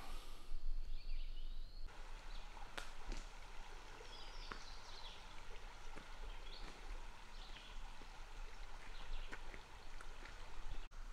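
A small woodland creek below an old mill site flows over stacked rocks in a continuous soft wash, quiet and steady, with scattered splashes and clicks and faint birdsong above it.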